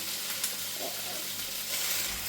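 Raw plantain and prawns frying together in a pan as they are stirred for a Kerala thoran, giving a steady, fairly quiet sizzle with faint scraping that continues throughout.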